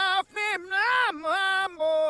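A voice played backwards on tape, with swelling, sucked-in syllables and unnatural rising tones in several short bursts.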